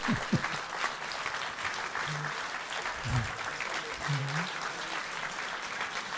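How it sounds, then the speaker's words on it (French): A festival audience at an evening event gives a standing ovation, with dense, sustained clapping from many hands that fills the room. A few voices call out briefly over the applause. "c'est une grande joie d'accueillir Marie-Monique Robin avec plein d'applaudissements. Standing ovation"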